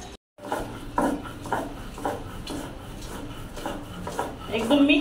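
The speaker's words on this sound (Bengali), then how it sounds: "শিলপাটা হচ্ছে বাটবো।" Small shrimp are ground by hand on a shil pata grinding stone, making rhythmic rasping strokes about twice a second, close and fairly loud.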